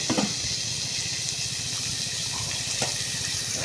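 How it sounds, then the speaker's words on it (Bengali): Water pours into a pot of cooking khichuri, a steady, close gushing stream running throughout with faint clinks underneath. "তারপরে একটু হালকা পানি দিলাম"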